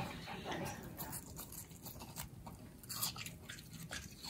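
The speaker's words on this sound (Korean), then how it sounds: "이 아삭아삭하는 껍질 쪽이 더 좋은가 봐." A dog chews crunchy watermelon rind, giving faint, close, irregular crisp bites and wet chewing.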